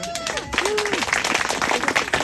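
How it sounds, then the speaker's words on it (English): Audience applause at a community storytelling event at Bethel, a dense wash of clapping with a voice speaking over it, fairly loud and close. "another round of applause"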